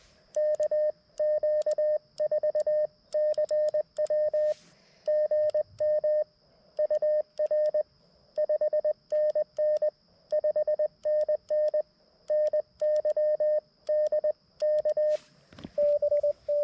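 Steady Morse code tones keyed in rapid, uneven bursts, with the characteristic irregular rhythm of a sideswiper key, clear and continuous with no talking.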